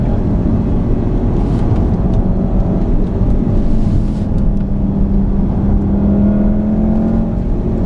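Steady low engine drone with a faint rising whine, heard from inside a moving 2015 VW Golf R, continuous and fairly loud with no voices.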